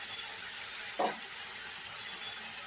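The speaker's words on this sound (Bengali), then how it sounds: "এইবার আমি এটা একটু নিয়ে নেড়ে দিই এইগুলো সব শুদ্ধ আমি এবার কষতে থাকবো" Spices are stirred and fried in a pan, a steady close sizzle running throughout with a single brief scrape of stirring partway through.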